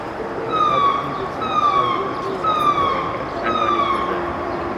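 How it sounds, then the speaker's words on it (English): A warning siren on a roller coaster at an enthusiasts' convention, alerting crews of an oncoming train, sounds as four repeated descending wails, loud and close, over outdoor background noise. "That siren that you're hearing warns the crews of an oncoming train."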